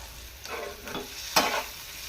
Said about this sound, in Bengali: এই সবগুলো একটু হালকা নাড়াচাড়া করে দেবো, নাড়াচাড়া করতে থাকবে।